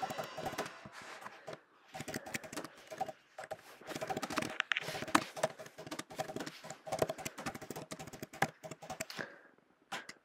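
Rapid, uneven keystrokes on a computer keyboard, typed close by in bursts across the whole stretch with brief pauses, fairly quiet and without speech.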